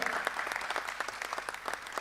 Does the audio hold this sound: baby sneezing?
no